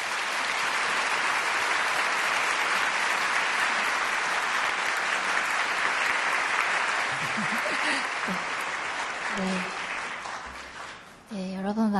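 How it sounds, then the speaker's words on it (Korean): A church congregation at an early-morning service claps to welcome a guest speaker, a long, even roar of applause from many people that tapers near the end as a voice begins speaking. "우리 박수로 환영하겠습니다."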